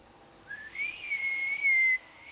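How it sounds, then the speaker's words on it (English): A single rising whistle sounds in the video game Ghost of Yōtei, sliding upward and then holding a clear, bright tone that grows louder before cutting off, with quiet ambience around it. "Maybe if you try whistling."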